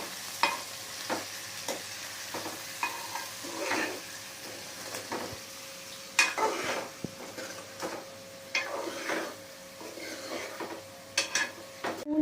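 Tomato curry simmering and frying in a pan, with repeated scrapes and clinks of a spoon stirring against the metal over a low, steady sizzle, close and fairly quiet.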